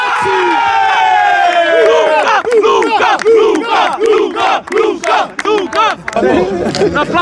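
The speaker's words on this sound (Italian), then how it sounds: "facciamo un applauso della Fratellanza" A crowd at an Italian football tournament's awards ceremony roars with loud cheers, whoops and rhythmic chanted shouts, close and energetic, surging in repeated bursts with clapping mixed into the din.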